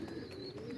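A pigeon kept by a fancier gives a soft, steady low coo, a single sustained call that is quiet and close, with no talk over it.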